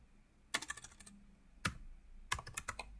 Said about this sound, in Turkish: nokta.com yazıyorum ve enter'a basıp bir alt hücreye iniyorum